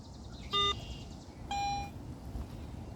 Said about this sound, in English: I'm gonna fire my metal detector and let's just see.